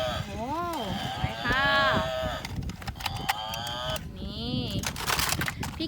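A person's voice imitating a cow, making several drawn-out, wavering moo-like calls one after another.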